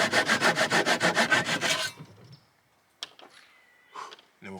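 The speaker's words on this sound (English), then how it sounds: "Using this saw to cut off the excess of these wood plugs." A hand saw cuts off the excess of wood plugs in a panel, with about a dozen rhythmic back-and-forth rasping strokes, close and loud, followed by light taps and handling noises.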